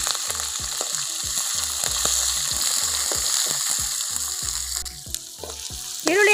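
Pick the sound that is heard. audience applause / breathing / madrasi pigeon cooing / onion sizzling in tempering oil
onion sizzling in tempering oil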